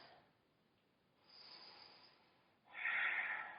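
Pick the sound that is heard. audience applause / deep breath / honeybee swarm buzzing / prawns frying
deep breath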